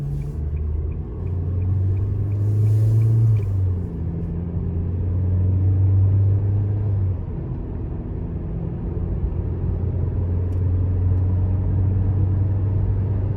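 A 2021 Nissan Versa SV, non-turbo, accelerates on the road, its engine a steady low rumbling drone with rising tonal hums, heard from inside the car throughout with no talking.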